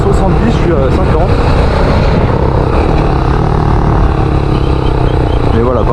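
A Yamaha YBR 125 motorcycle engine runs at high revs, a loud, steady buzzing drone held close and continuous, with a voice speaking over it.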